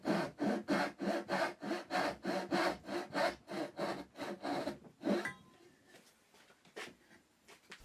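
Hand saw cutting reclaimed hardwood down to a depth mark for a socket joint, about a dozen steady rhythmic strokes close up, then a pause with a few lighter scrapes and taps.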